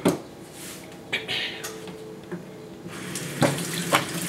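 Kitchen sink tap running in short bursts while salad greens are washed, water splashing intermittently with soft clatter between streams, heard close up.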